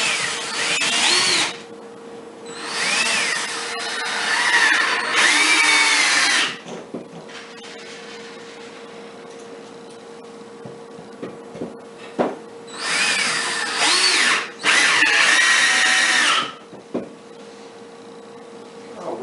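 Drill driving screws into a wooden meditation bench, two bursts of whining motor close up, each several seconds long with rising and falling pitch, separated by quiet handling knocks.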